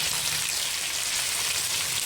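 Thick carrot slices sizzle loudly in a hot frying pan, making a dense, steady hiss that continues without pause.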